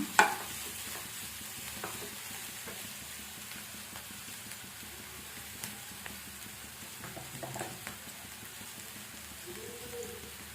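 Chopped carrot stir-fried in a pan gives a quiet, steady sizzle with soft scraping stirs and light patter-like crackles, heard close and alone.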